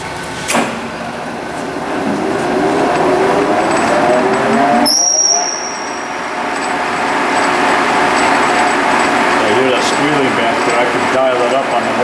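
A LeBlond sliding bed gap lathe runs steadily, its machine drone shifting through spindle speed changes, with a brief high whine and a short drop near the middle before the loud running resumes, under background talk.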